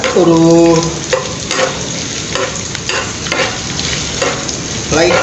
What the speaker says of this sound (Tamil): கொஞ்சம் இப்படி எண்ணெயில் வறுத்துக்கோங்க